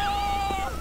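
A single drawn-out cat meow in the video game Postal 2, clear and close, with a steady tonal whine and game background underneath.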